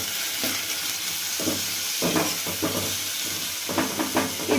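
Onions fry in a pan for mutton curry, giving a steady, close sizzling hiss with repeated scraping stir strokes of a spoon against the pan throughout.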